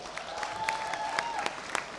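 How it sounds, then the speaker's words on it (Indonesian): An audience claps at a televised anniversary event in a short burst of applause with scattered sharp claps, heard somewhat distantly under a faint tonal hum. "Tepuk tangannya boleh hadirin sekalian."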